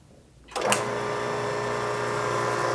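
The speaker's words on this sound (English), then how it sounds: "This will give us a chance to see what this pump sounds like." A Leybold Neo D vacuum pump on a freeze dryer starts up with a sharp rise, then runs as a steady, loud mechanical hum with a dense, even whir and no talk.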